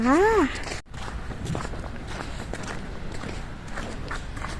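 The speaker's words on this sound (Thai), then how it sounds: "เวลาเราเดินเหยียบลงไปก็จะได้ยินเสียงแบบนี้ค่ะ" Footsteps crunch on dry, freshly fallen snow in a snowy German town, a steady walking rhythm of close, soft crunches after a brief high chirp at the start.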